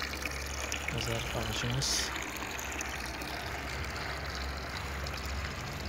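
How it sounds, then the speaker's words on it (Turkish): Circulating water running in a home garden feature, a steady trickling flow heard fairly softly throughout while a person talks briefly near the start. "Suyumuz devir daim su akıyor."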